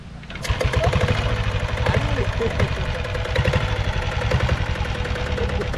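A Royal Enfield diesel Bullet running after a kick start, a loud, close, rhythmic thumping idle that holds steady throughout, with someone talking over it.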